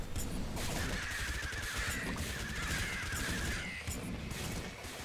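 Flamethrower fire from the video game Nuclear Throne, a dense continuous roaring crackle of burning that runs loud and steady throughout, with scattered game effects layered on top.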